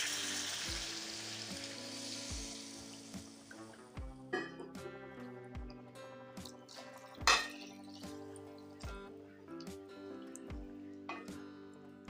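Spiced masala for stuffed bitter gourd sizzles hard in a pan as water goes in. The fierce hiss dies down after a few seconds into a quieter bubbling with soft clinks and drips, over a steady tonal hum.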